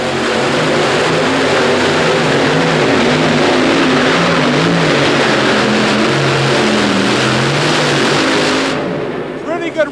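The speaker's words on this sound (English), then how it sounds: "Robert Elliott, the 4 Keith Black Hemi engine-powered Fancy Farmer from Fancy Farm" A modified pulling tractor powered by four Keith Black Hemi engines roars through a run at an indoor stadium pull, a loud, sustained, throbbing multi-engine drone that cuts off abruptly near the end, with an announcer talking over it.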